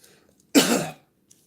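A single short, harsh cough close to the microphone, surrounded by near silence.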